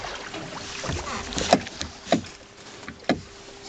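A small boat moves on water, with hollow knocks and splashy thumps at irregular intervals over steady wind and water noise.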